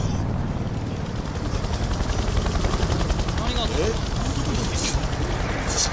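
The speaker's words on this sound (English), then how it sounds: "one helicopter is not gonna make people stop in the street like that, but three? Three would." Helicopters in the video game Yakuza Kiwami 2, a steady loud rotor thumping and engine roar filling the scene, with a voice speaking under the din.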